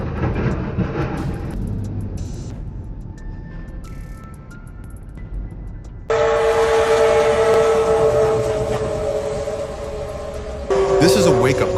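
A speeding train roars by, with a whistle sounding, and the sound cuts abruptly between loud bursts of rumble and tonal blasts, close and forceful.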